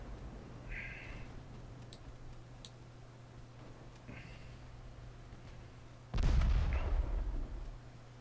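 Distant battleship gunfire in the naval game Ultimate Admiral Dreadnoughts, with faint ticking over a low hum, then one heavy booming salvo that rumbles out before fading.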